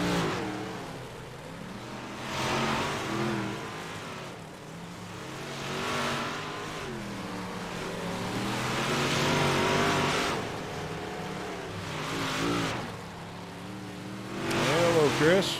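NDRA 358 modified race cars run practice laps at the Chili Bowl, their engines repeatedly swelling as they roar past and fading away in a rising-and-falling cycle, with voices talking over the noise.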